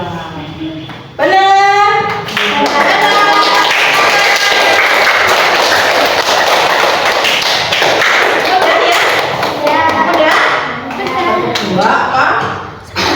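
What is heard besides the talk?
children clapping hands in a counting game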